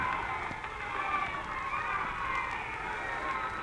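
Steady crowd din in a radio drama, a broad blur of many distant voices murmuring and calling at once, holding at an even level with scattered faint shouts.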